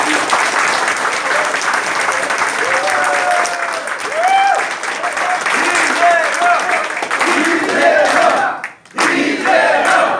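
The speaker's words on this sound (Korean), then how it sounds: "이재명 시장을 먼저 환영의 박수로 응원했습니다" Supporters at a meet-and-greet for presidential candidate Lee Jae-myung applaud loudly and continuously with cheering and shouting, close and crowded, with a brief dip near the end.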